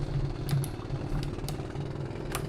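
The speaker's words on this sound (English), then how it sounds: "it sounds like an idling petrol generator" A small engine idles with a low, steady putter, a few faint clicks and clatters over the top, fairly quiet throughout.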